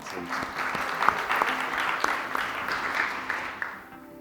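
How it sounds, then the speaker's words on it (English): Applause from a seated audience at a government partners' event as the next speaker walks up, a moderate, fairly distant wash of many hands with a few sharper claps standing out, fading away toward the end. "Let's clap for James as he walks"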